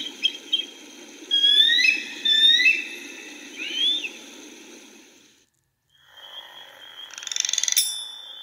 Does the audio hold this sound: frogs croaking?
yes